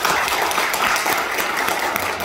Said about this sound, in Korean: 국회에서 좀 힘차게 싸워달라고 박수 한번 부탁드립니다.